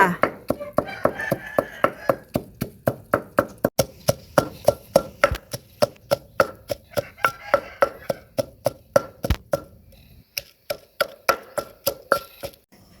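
Steady, rhythmic pounding thuds of a pestle crushing chilies in a mortar, about two to three strikes per second, close and loud, briefly pausing near the end.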